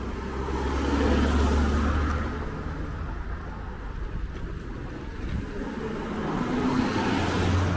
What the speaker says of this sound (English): Let me do a 3-point turn here.